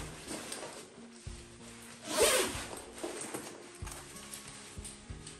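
The zipper on the internal pocket of a Canada Goose Emory Parka is pulled in one quick, bright, close zip. Soft fabric rustling and handling sounds come before and after it.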